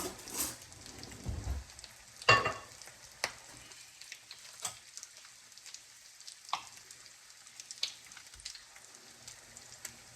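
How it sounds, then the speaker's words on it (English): Butter melting into fried creamed corn in a hot pan, a soft crackling sizzle with a few utensil clicks and a louder stir scrape early on, otherwise faint and sparse. "We're going to put a piece of butter in there"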